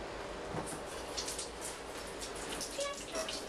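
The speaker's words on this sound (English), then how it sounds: "let me wash my hands" Tap water running steadily into a sink during handwashing, close and continuous, with faint voices and small clinks in the background.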